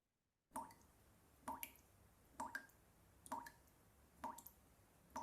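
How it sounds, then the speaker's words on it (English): Water droplets drip one after another at a slow, regular pace, roughly one per second, each a crisp, clear plop against near silence. "That's the sound of water droplet."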